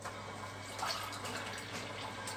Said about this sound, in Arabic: باش نزيد عليهم كاس ماء.